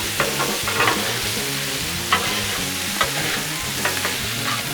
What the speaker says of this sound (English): Just let these vegetables cook and all that flavor come out of that sausage.